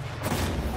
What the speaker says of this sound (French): Oh, il y a une explosion.